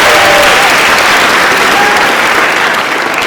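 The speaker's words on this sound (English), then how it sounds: "Let's give Henry a round of applause for helping out." A school assembly audience gives a volunteer a sustained round of applause during a card trick, dense and loud clapping from a crowd that holds steady for the whole stretch.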